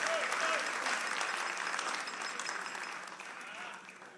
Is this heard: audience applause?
yes